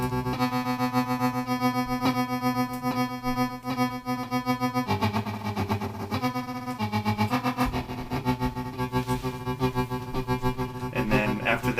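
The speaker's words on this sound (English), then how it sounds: "I also have this Amplitron, which is actually two tremolo pedals in one." A drum machine runs through an Amplitron dual tremolo pedal, giving a processed, distorted electronic texture with pulsing tones and rhythmic hits that shift character midway, without speech.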